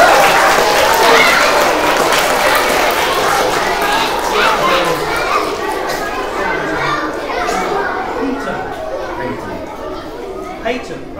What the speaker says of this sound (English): Round of applause for Charlie